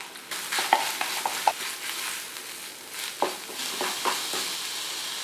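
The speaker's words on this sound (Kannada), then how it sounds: "ಈಗ ನಾವು ಮಾಡಿರೋ ಮಸಾಲೆನ ಇದರಲ್ಲಿ ಹಾಕಿ ಚೆನ್ನಾಗಿ ಹುರ್ಕೊಳ್ಳೋಣ" Masala stir-fried with chopped ivy gourd for a Mangalore-style palya hisses steadily while a spoon scrapes and taps the pan at irregular moments, close and moderately loud with no voices.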